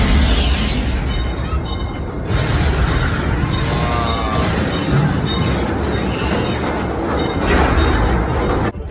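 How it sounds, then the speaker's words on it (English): Cars of the Calico Mine Train, a dark ride at Knott's Berry Farm, rumble along the track loudly and without a break, with wheels rattling and squeaking faintly throughout. There is no talk. "Calico Mine Train is a very underrated dark ride."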